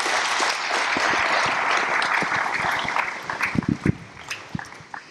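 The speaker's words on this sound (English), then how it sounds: "So you guys deserve a round of applause." Town hall audience at Matapeake Elementary School applauding, a full burst of crowd clapping that thins into scattered individual claps and faint movement by the end.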